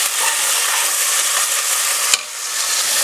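Onions sautéing with rock salt in a pan for Maharashtrian misal, a steady close sizzle and frying hiss with faint stirring scrapes and one brief clack.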